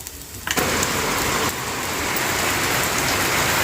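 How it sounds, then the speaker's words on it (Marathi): Heavy rain pours down outside a home, starting abruptly after a brief quiet moment and then holding as a loud, steady, dense hiss for the rest of the stretch. "एरे एरे पावसा"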